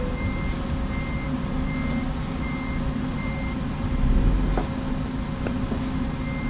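A truck in American Truck Simulator backing up, with evenly spaced reversing beeps over a steady engine drone and a brief hiss of air brakes.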